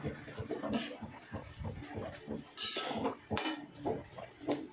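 Stirring a pot of ginataang gabi (laing), taro cooked in coconut milk, with repeated clinks and scrapes of a utensil against the pot in an irregular rhythm, close and moderately loud, with no talking.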